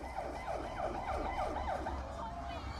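Ambulance siren wailing in repeated rising and falling sweeps at the scene of the Seoul Itaewon crowd crush, steady and moderately close over a dense background rumble.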